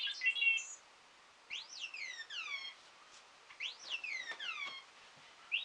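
A small light-up toy figure whistles in faint, tinny, muffled bursts, with rising and falling chirpy notes repeated in several quick phrases and short pauses between them.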